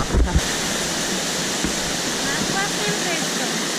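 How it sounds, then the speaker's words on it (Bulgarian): Waterfall near Ubud, Bali, a steady broadband rush of falling water that carries through the whole stretch, close and fairly loud, with a brief thump at the start. "Да, ето го истинския водопад."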